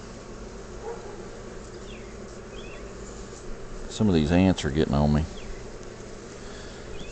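Bees buzzing around a swarming top bar hive, a steady close drone running throughout, with someone briefly speaking over it.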